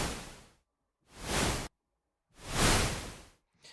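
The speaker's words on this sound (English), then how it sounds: "Basically a noise whoosh." Synthesized white-noise whooshes built with a sound-design tool: three smooth swelling and fading rushes of broadband noise, each about half a second to a second long, separated by short silences, with no voices.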